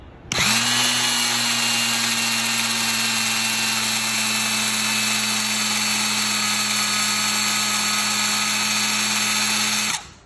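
A restored Ram Tools Model F-11 Fury drill runs steadily for about ten seconds, giving a loud, close, constant motor whine that starts abruptly and cuts off at the end, with no talking.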